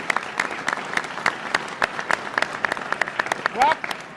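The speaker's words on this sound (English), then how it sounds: "A round of applause." Crowd at a New York law enforcement rally against bail reform applauding a county sheriff, a dense patter of clapping that carries on steadily through the moment, with a voice speaking briefly over it near the end.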